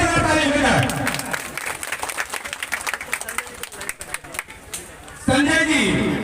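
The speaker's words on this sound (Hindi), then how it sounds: "एक बार जोरदार ताली हो जाए।" An audience at an outdoor political welcome applauds, a dense burst of clapping with crowd noise and a voice over a loudspeaker, fading in the middle and swelling again near the end.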